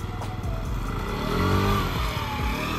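A moped engine runs close by with a steady low hum that swells slightly as a man clumsily backs the scooter up on an island street.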